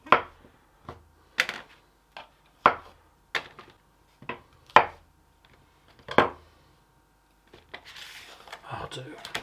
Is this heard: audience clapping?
no